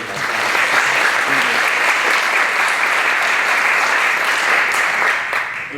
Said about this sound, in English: they deserve a round of applause for pulling all of this together